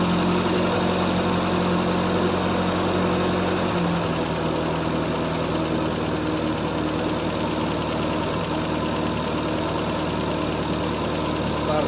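A 1975 Triumph Spitfire 1500 engine idles steadily at about 1100 rpm up close, a constant low rumble with a faint ticking, its pitch dropping slightly partway through.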